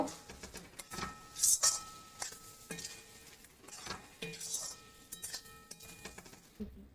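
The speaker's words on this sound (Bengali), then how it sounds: "সামান্য জল দিয়ে নাড়াচাড়া করে নেব" Pumpkin curry being stirred in a pan with a little water, giving scattered scraping and clinking of a utensil against the pot over a faint background hiss, with no talking.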